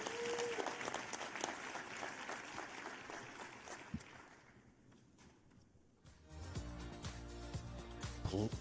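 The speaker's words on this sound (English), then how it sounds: "Let's give them a round of applause, everybody." Applause from a forum audience at HOPE Global Forums 2023 swells and fades, dips into a quieter lull, then returns with clapping and background noise near the end.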